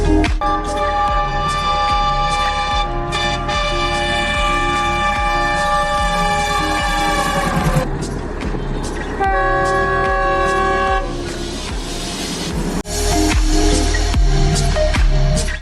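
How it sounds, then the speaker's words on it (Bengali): Burimari Express diesel train pulling out of Bogura railway station, its loud sustained horn blaring over the steady rumble of engine and rolling wagons, with a second horn blast near the end. "স্টেশন থেকে বুড়িমারি এক্সপ্রেস ট্রেনটি ঢাকার উদ্দেশ্যে চলে গেল"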